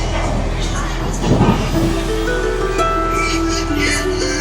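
Interior of a moving Amrit Bharat Express train from Sealdah toward Banaras: a steady low rumble and rolling hum of the carriage, with muffled voices and faint clatter in the background.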